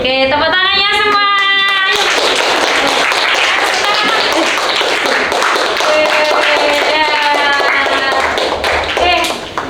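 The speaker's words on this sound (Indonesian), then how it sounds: "Oke, tepuk tangannya semua." A group claps together in a classroom after a folk-tale storytelling presentation, a dense, steady patter that runs loud for most of the stretch, overlapped by young voices and tonal, sung-sounding notes near the start and end.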